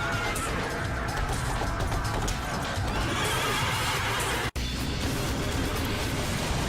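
A horse neighs and its hooves clatter in the video game Devil May Cry 3: Dante's Awakening. The loud whinnying and galloping run continuously, broken by one abrupt cut near the end.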